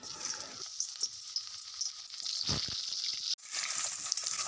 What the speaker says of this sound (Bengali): তারপরে আলুটা বাজি লিমু